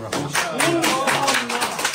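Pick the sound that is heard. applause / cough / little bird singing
applause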